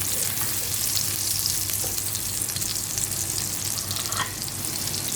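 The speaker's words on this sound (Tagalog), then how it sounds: "Tapos maglagay na rin ng bawang. Halo-halo lang uli." Ginger and garlic frying in oil for a crab dish, a close, steady sizzle with soft stirring scrapes of the spatula in the pan, running continuously with no voice.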